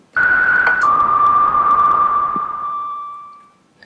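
Korg MonoPoly synthesizer noise generator routed into a resonating filter, giving a steady ringing whistle-like tone that steps down in pitch early on, then sustains with a hissy wash and fades out over about four seconds, with no talk.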